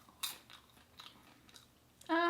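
Chewing Smart Pop low-calorie popcorn, a few soft crunchy bites close to the mic, quiet and dry-sounding, followed by a sudden louder tonal burst at the end.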